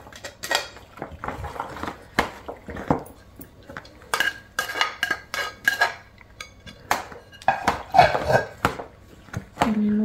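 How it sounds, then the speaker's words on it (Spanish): A utensil mixes cold pasta salad with chopped ham in a bowl, giving irregular close clinks, scrapes and clatters of metal against dish, with quiet gaps between them. "Y vamos a ir integrando todo lo que picamos."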